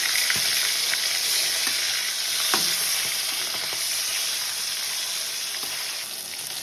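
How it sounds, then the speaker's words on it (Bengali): Loud, continuous sizzling of katla fish frying in hot oil in a wok, with occasional crackles and pops close by. "কড়াতে মাছটা দিচ্ছি। এই মাছটা একটু উল্টে দিচ্ছি। এবার করে ভেজে নেবো লাল লাল করে।"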